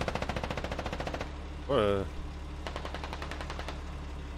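Rapid automatic gunfire rattles in the military shooter game Squad, a fast burst, a brief pause with a short spoken exclamation, then a second quick burst.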